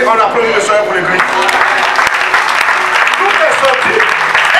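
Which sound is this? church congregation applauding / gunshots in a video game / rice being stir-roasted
church congregation applauding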